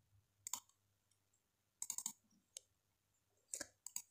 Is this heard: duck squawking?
no